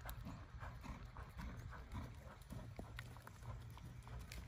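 A horse's hooves thud and shuffle on the ground as it steps backward during a cow-cutting training session, a steady stream of soft, irregular clops at moderate distance.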